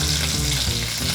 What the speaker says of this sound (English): While the chicken is sizzling away